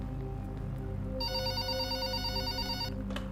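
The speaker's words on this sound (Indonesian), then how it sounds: "ada telepon." In the Pikabu video game, a telephone rings with a bright electronic trill lasting under two seconds, heard over a steady low background hum.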